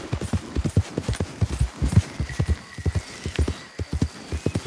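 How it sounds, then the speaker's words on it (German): A horse's hooves clip-clop at a steady trot through the woods in the video game Red Dead Redemption 2, a close, rhythmic, continuous beat with no talk. "Bisschen Wald reiten ist eine ganz gute Idee."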